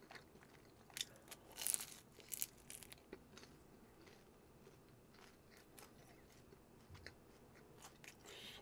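Someone eats sweet and sour pork and dumplings close up, with quiet crunchy bites and soft chewing that come in irregular bursts and then settle into a low, steady munching.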